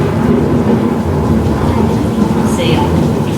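Heavy rain pours down with a dense, loud, steady roar and low rumbling like thunder, continuous from start to finish.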